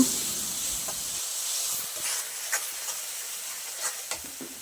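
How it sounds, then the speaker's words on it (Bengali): Spices frying in a pan for a fish curry with mixed vegetables, after turmeric and chili powder go in with a little water: a steady close sizzling hiss with a few soft stirring scrapes and taps, no voices. "এরপর মশলাগুলোকে ভেজে নিব"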